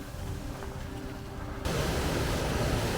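A small waterfall pours into a canal between Abergavenny and Brecon, a constant broadband rush of water that grows louder partway through, heard alone.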